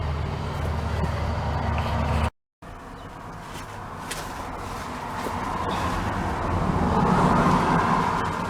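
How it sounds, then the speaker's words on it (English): A passing car on a residential street rumbles steadily at moderate volume, its broadband road noise briefly cut off by a short silence before continuing and swelling slightly as it approaches, with no talk. "I had to quickly stop the video because some guy's driving down the street."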